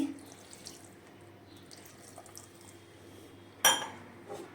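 Half a glass of water pours into a mixer jar holding peeled oranges and sugar for fresh orange juice, a soft close trickle followed by a sharp splash near the end.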